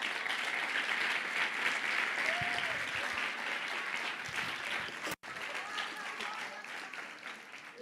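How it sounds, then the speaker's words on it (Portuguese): A church congregation applauds in steady, dense clapping that fills the space, with a brief cut partway through and the crowd noise continuing after it. "Aplauda o Senhor Jesus."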